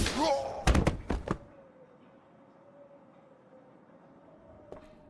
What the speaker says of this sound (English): Hope no one heard the explosion